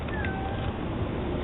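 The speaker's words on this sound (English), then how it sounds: "So you're actually calling the cat out here in the flower bed." A cat meows outdoors in a flower bed, a thin rising-and-falling cry heard over a steady, noisy background hiss for the whole short moment.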